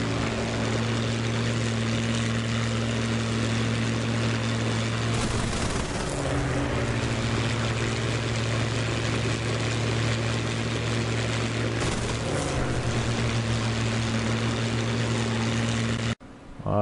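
A propeller airplane engine in a combat flight video game drones steadily and loudly throughout, a constant low hum with a brief pitch dip midway, before cutting off abruptly at the very end.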